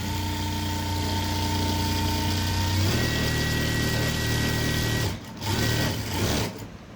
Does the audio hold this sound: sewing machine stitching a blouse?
yes